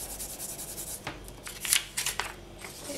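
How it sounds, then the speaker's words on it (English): Polymer clay for a fantasy-bloom pendant is burnished smooth by hand, giving soft, scratchy rubbing strokes in short irregular bursts, close and fairly quiet, with no talk. "I'll just do one more burnish because we want that to have a nice smooth texture."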